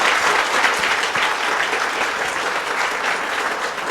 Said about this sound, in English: So I think a big round of applause for Dr. Bahl.